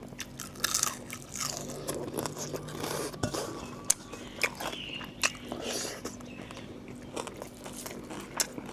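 Crispy fried mackerel being bitten and chewed up close, with repeated crunchy bites and chewing sounds spread across the whole stretch, fairly quiet and with no talking.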